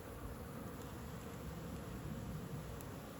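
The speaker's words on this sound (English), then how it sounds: "That's what bees do when they're new foragers." Honey bees forage around a hive on a winter day, producing a steady, continuous buzzing drone that holds at an even level throughout, with no talk over it.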